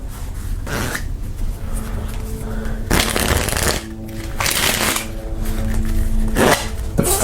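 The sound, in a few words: false in-the-hands riffle shuffle of playing cards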